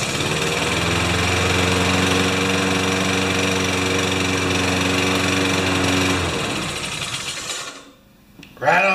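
A Honda HR216 lawn mower engine runs loud and steady with a droning, harmonic hum that holds for about six seconds before winding down, dropping briefly near silence and picking up again at the very end.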